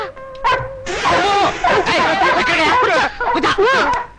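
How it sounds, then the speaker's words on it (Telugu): A dog barks in a Telugu movie scene, sharp yaps repeating through a dense mix of voices and background sound. "నీకు కూడా మేనలాగా కుక్కలంటే భయమా"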